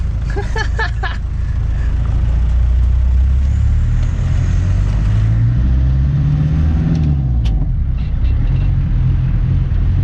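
A 1997 Land Rover Defender with the 300 TDI diesel and manual gearbox drives through city streets, its loud engine rumbling steadily and rising as it accelerates, with a few brief sharp knocks near the start.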